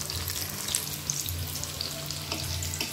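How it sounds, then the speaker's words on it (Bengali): Spiny gourd (kakrol) slices fry in a pan with a soft, steady sizzle and light crackling, close and fairly quiet, with no talk. "কেউ চাইলে আরও কড়া করে ভাজতেই পারে।"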